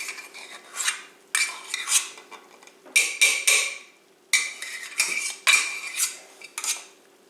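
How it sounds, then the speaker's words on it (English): Plain mashed potatoes being mixed into meat filling for a tourtière Christmas meat pie, heard as repeated bursts of a spoon scraping and clinking against the bowl with short pauses between strokes. "now what we're going to do is add the mashed potatoes to the meat mixture"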